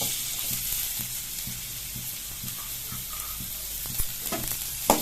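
Onion sautéing in oil in a kadai, with a steady broadband sizzle and occasional soft scrape or clink toward the end, close and continuous with no talking.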